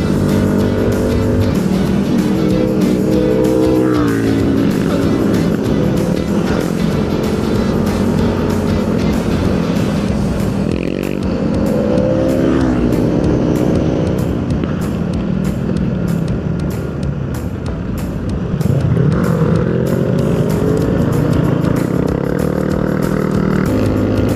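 Loud, continuous roar of high-revving MotoGP racing motorcycles passing repeatedly, with rising and falling pitch as each one sweeps by.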